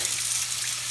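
Tap water runs into a kitchen sink for rinsing, a brief steady hiss of flowing water, close and alone.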